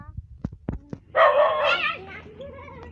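A dog gives a few short, sharp barks, then a longer whining yelp-like bark, close by, with some light voices and rustling around it.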